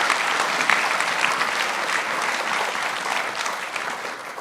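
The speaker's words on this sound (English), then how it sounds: "a round of applause for the panel" Sustained applause from a conference audience for a World War II history panel, a steady dense wash of clapping lasting several seconds at even loudness, with no speech over it.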